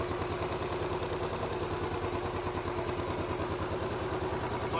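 A Royal Enfield Bullet motorcycle engine idles steadily and quietly, a low, even, rhythmic thump with light mechanical clatter that continues unbroken throughout.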